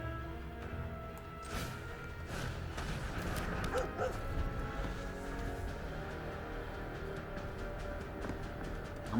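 A menacing dog creature in the MTG Arena card game gives a growling, barking effect with a yelp, layered over soft background game music at moderate volume.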